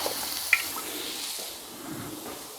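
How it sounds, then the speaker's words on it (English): Ready-cooked snails singeing in a hot pan for a steak and snails dish, giving a steady soft sizzle with one sharp pop near the start. "I'm just going to singe them in a hot pan."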